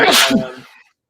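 One close, sharp sneeze bursts out and quickly fades into silence.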